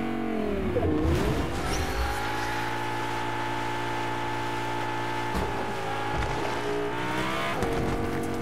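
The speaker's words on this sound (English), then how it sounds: "It's a car." A car driven in Fortnite gives off a close, droning engine tone that dips, climbs and shifts pitch as it accelerates and turns, heard throughout the clip.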